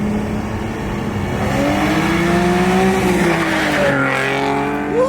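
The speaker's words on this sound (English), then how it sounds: "he's spinning tires" Nissan 370Z Nismo spinning its tires, a loud sustained engine roar with rising and falling pitch and a squealing whine, heard up close and continuous with no talking.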